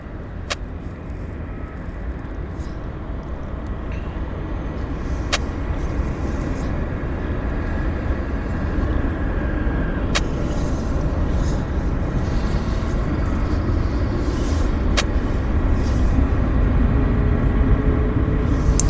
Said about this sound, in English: We're going to let the aircraft taxi in.